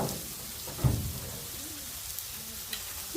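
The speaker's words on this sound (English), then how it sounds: "that's sizzling hard" Meat sizzling hard on a grill, a continuous crackling hiss with a couple of faint knocks.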